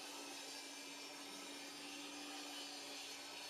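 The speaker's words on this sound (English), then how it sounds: "The final bit of cutting on the table saw was to rip down the 1/4 inch plywood to make these bin dividers." A table saw rips 1/4 inch plywood into bin dividers, a constant high-pitched whine and rushing blade noise holding steady and fairly faint for the whole stretch with no break.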